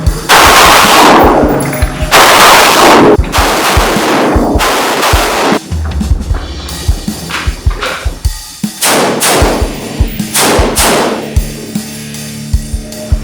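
Rapid rifle gunfire in close quarters battle and room clearing training, loud bursts and strings of shots echoing close by, with short pauses between volleys and no talking.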